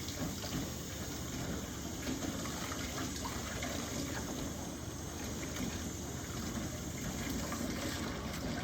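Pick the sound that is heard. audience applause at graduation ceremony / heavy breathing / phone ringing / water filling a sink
water filling a sink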